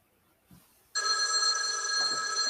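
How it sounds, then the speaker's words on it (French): An office telephone bell starts ringing abruptly after a moment of near silence, then keeps up a loud, steady electronic trill that rings alone to the end. "t'as le téléphone qui sonne jusqu'à tes 29 juillet pendant que t'es en vacances"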